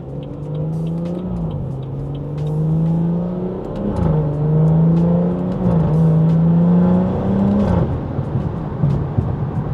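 A BMW 340i with the B58 engine pulls hard under acceleration, its steady near drone rising and falling through several gear changes with no voices over it.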